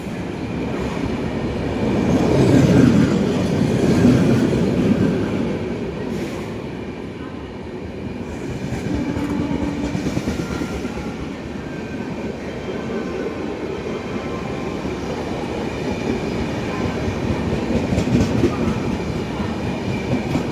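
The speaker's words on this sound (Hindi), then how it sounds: "डिब्रूगढ़ राजधानी भाई, इससे पहले हावड़ा राजधानी है, डिब्रूगढ़ राजधानी है।" The Dibrugarh Rajdhani Express passes near Anand Vihar with a loud continuous rumble and clatter of rolling wagons. It swells and eases across the clip, and voices talk faintly underneath.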